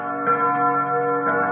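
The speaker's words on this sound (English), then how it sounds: "Now you can watch these chime rods if you want." Rods of a 1924–1930 Embee grandfather clock with bim bam chimes ring out near and loud, two struck tones sounding with a long sustained metallic hum that decays between strikes, no voices present.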